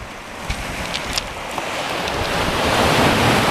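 Ocean waves washing onto a beach, a broad rushing roar that swells steadily louder, mixed with wind buffeting the microphone, loud and continuous with no voices.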